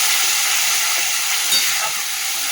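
Ginger, green chili and tomato paste fry loudly in hot mustard oil, a dense, steady hiss and sizzle close up with no talking.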